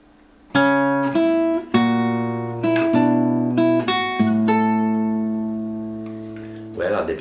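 Fingerstyle acoustic guitar plays measure 7 of a song from Toy Story 2: a run of plucked notes and chords, each ringing on, close and clear with no talking.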